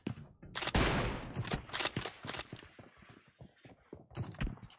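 Rapid bursts of gunfire in the BGMI battle royale game, several close, loud volleys with short gaps and a final burst after a pause, with no talk.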